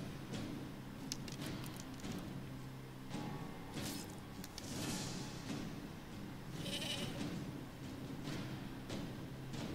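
Goats bleat in the video game Talisman, a few scattered calls over a steady, busy background hum, with no one speaking.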